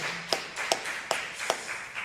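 Sharp claps ring out in a steady rhythm, about four evenly spaced beats, from a congregation during a Sunday morning church worship service, moderately close, with no talking.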